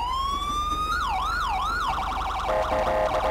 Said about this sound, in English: Siren is working.